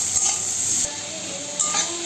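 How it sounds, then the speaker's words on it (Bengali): Onion and green chilli fry in mustard oil with a steady, close sizzling hiss, broken by a couple of brief stirring swells. "পেঁয়াজটাকে সুন্দর করে লাল লাল করে ভেজে নেব"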